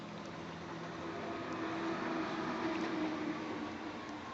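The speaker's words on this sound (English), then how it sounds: "Do you hear the cars outside?" Steady low rumble of traffic passing outside a home, a continuous distant drone of cars heard indoors with no talking.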